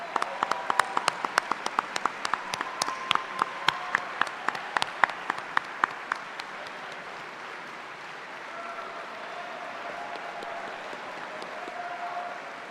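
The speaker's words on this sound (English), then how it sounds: "Let us applaud you." Scattered clapping picks up into a burst of applause from a graduation ceremony crowd, then thins out and fades into a murmuring room.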